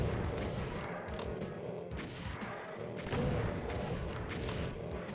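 Gunshots in Doom's Plutonia Experiment, map Caged, fired at revenants and imps: a quiet run of repeated thudding blasts at an uneven pace, set against continuous game noise.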